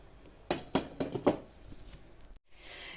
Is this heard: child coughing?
no